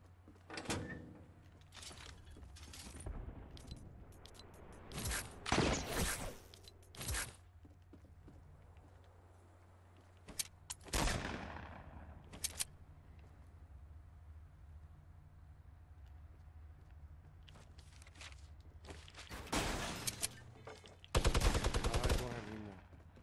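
Shotgun blasts in Fortnite Battle Royale, sharp isolated bangs spaced across the stretch with a rapid cluster near the end, over quiet game ambience and occasional speech.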